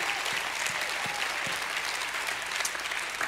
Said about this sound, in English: Give him another hand clap and a shout of praise